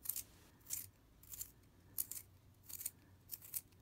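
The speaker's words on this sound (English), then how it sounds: "we'll take our time sharpening this guy here." A pencil is turned in a Möbius & Ruppert Pollux brass concave sharpener, giving a series of faint, crisp scraping and cutting bursts at an uneven rhythm, close up and quiet.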